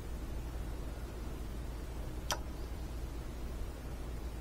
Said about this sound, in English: Wait for the relay to click.